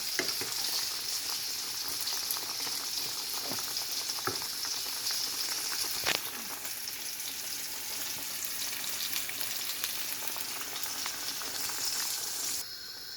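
Pointed gourd sautéing with spices in a pan, a constant dense close sizzle with occasional light clicks of a utensil, steady in loudness and free of speech throughout.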